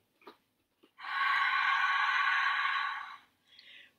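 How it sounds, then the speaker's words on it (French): Strong exhaled breath pushed through a wide-open mouth during a Pilates breathing exercise, one long steady airy rush of about two seconds, close and clear, with a few soft clicks around it and no talk. "Et maintenant, active vraiment la respiration."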